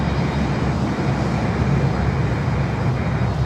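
An Atlas cargo jet climbing out from runway 8 at Miami airport gives a loud, steady, low engine roar with broadband rush, even and unbroken throughout, no voices.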